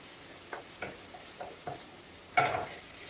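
Onions and tomatoes frying in a pan for rajma curry: a quiet sizzle with a few soft stirring scrapes, then a louder burst of hissing as tomatoes go in near the end.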